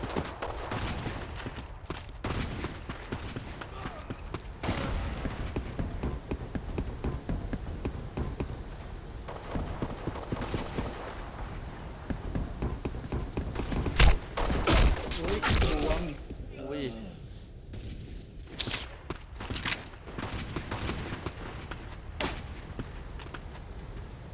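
Rapid bursts of gunfire from the Black Squad online shooter, dense and loud in the mix for most of the stretch, with excited talk from players over the shots.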